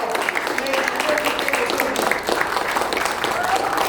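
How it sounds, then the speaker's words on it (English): An audience applauds steadily at an event about dyslexia, a short burst of dense clapping throughout. "give her another round of applause"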